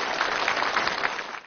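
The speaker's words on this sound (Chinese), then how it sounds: "让我们用热烈的掌声欢迎来到今天对话现场的每一位股民朋友" A studio audience at a Chinese televised stock-market talk show breaks into warm applause, a dense, steady wash of clapping that cuts off abruptly.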